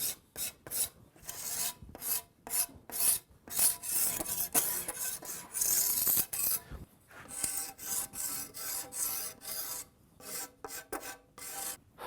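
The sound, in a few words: scoring the back of a wooden bow limb for glue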